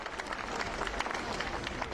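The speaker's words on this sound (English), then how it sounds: "My feeling once I heard the applause was one of relief" Crowd outside Buckingham Palace applauding the Queen during a walkabout, a steady, dense patter of many hands clapping, moderately distant and continuous with no pauses.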